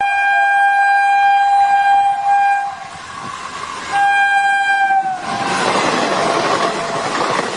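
Train running with a loud horn blowing in two long blasts, followed by a rushing rumble of rolling wagons close by.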